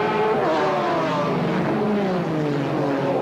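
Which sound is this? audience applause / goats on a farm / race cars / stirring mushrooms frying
race cars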